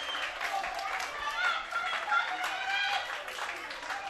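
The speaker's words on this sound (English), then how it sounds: "Santa Fe cheering section getting loud over there to our left" Fans in the Santa Fe cheering section at a college baseball game against Chipola clap and cheer from a distance, a steady crowd roar that swells under an announcer's running commentary.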